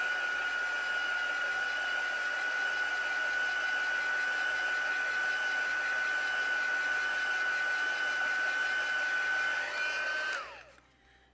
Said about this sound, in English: So a quick go with the heat gun.